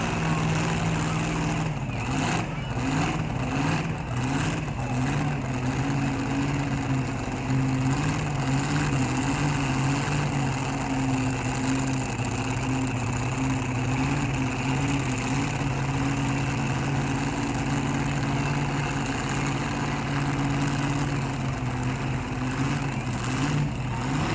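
An Oldsmobile-powered pulling vehicle idles at a prairie pulling event, a steady low rumbling drone that holds at moderate loudness for the whole stretch with slight vibration.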